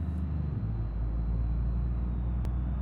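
A bus drives in BeamNG.drive, its engine a steady low rumble with road noise holding at moderate level, a brief sharp click near the end, no talk over it.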